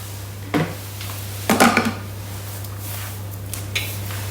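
A Thermomix lid fitted in place with the simmering basket on top, heard as two or three brief close clunks and plastic knocks over a steady low hum while making bacon and cranberry jam.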